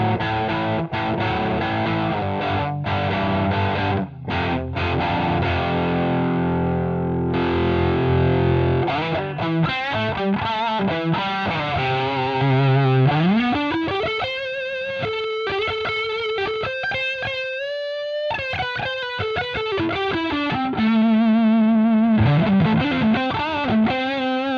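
An electric guitar set for rhythm plays through a VS Audio Royal Flush overdrive pedal, first as thick distorted chords, then as single-note bends and sustained lead-like lines, loud and close with no talking.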